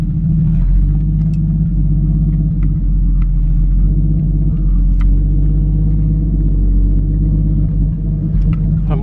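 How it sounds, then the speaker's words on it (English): A 1937 pre-war car with mechanical brakes idling and creeping through a three-point turn, its engine a steady, close, low rumble with a slight hum and faint clicks and knocks throughout. "Just attempting a 3-point turn. Steering feels really nice on it actually."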